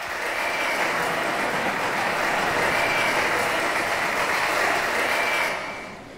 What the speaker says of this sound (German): Das ist gesampeltes Applaus.